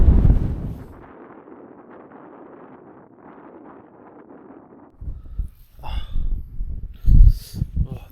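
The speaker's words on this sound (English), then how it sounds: "Oh, that wind is meant to drop off, but it hasn't." Strong wind buffets a wild campsite in the Scottish Borders with a steady low roar. Heavier gusts and rattling bursts follow, close to the microphone, with no voices.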